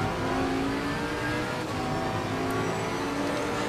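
Porsche GT race car engine in Assetto Corsa Competizione at Kyalami, a loud, steady in-car drone with a high whine held at speed the whole time and no talking.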